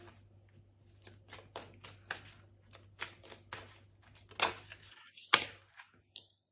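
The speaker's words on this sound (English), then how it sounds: "I'm just going to keep shuffling." Tarot cards being shuffled by hand in a series of crisp riffles and soft flicks, irregular bursts spaced across the stretch, close and fairly quiet with no talking.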